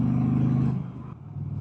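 A 2025 Indian Challenger Limited motorcycle engine hums steadily while riding, a low close droning rumble that eases slightly partway through, heard alone without talk.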